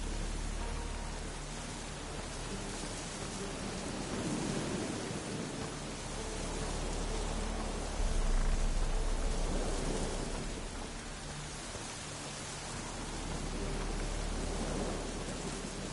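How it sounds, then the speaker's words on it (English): Steady rain and thunder rumbling in a PS4 video game, a dense, continuous downpour hiss with low rolling swells throughout. "Looks like rain."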